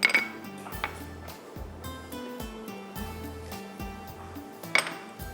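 Utensils clinking against a bowl while ingredients are mixed for a white qorma, a string of light metallic clinks and taps, close and fairly quiet, with a sharper clink near the start and another near the end.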